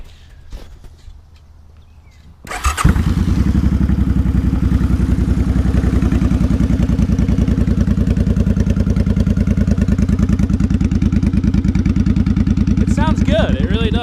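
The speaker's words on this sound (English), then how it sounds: "you have to pull in the clutch to start it." A motorcycle engine starts after a short quiet stretch with faint rustling, then runs at a steady, loud, close idle with an even pulsing beat for the rest of the clip.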